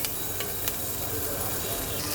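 Drumstick and potato pieces with spices fry in oil in a pan, a continuous moderate sizzle and hiss with a couple of faint clinks, no talk.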